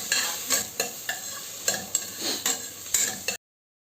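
Onions sautéing in a pan for Kerala-style kappa biriyani, stirred with a spoon in repeated scraping strokes about twice a second over a steady, moderately quiet sizzle.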